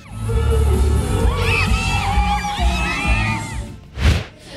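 A crowd at an outdoor event cheers and shouts with high whoops and screams over a low rumbling bed, followed by a sharp loud bang near the end.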